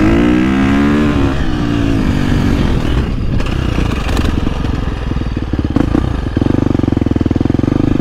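A 2023 KTM 350 SX-F dirt bike engine revs loudly up close, rising and falling through several sharp throttle blips before settling into a steady, rough idle.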